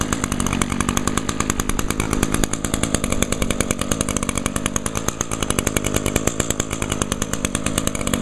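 A small two-stroke lawn trimmer engine runs steadily and loudly right after starting, a continuous buzzing drone with a fast rapid pulse throughout, close by and without talk.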